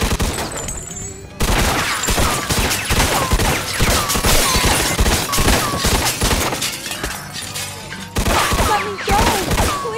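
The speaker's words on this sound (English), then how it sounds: "Shooting a gun" Rapid bursts of gunfire from the Mafia 2 video game fill the scene, dense overlapping shots and clatter running almost continuously, loud and close, with a brief quieter gap before the firing resumes.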